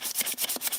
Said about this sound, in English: Oh, how I love hand sanding.